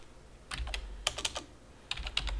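Several short bursts of clicking keys on a computer keyboard as a host name is typed during a Rockstor Linux NAS install, close and alone with no talk.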